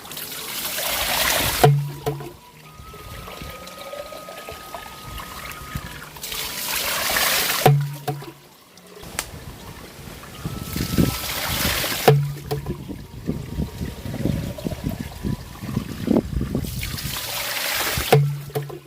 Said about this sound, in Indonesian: Dimanfaatin pancurenang ini untuk seperti nakut-nakutin hama ya yang ada di sawah ataupun seperti yang ada di empang.